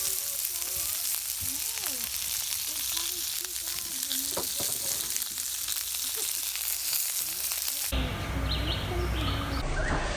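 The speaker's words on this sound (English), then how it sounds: "Cooking breakfast for you, dude. Cheesy eggs and sausage" Cheesy eggs, sausage and bacon fry on a camp stove at a campsite, a continuous sizzling hiss up close with faint birdsong in the background before the sound abruptly shifts to a louder, harsher sizzle.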